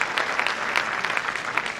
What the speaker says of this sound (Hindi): जोरदार ताली बजाए तो अच्छा है